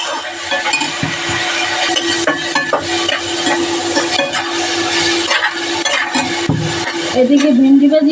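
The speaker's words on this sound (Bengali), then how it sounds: "এদিকে ভেন্ডি ভাজি হইতে থাকবে" Okra (bhindi) fries in mustard oil with onion and green chilli, sizzling steadily up close while a spatula repeatedly scrapes and clinks against the pan.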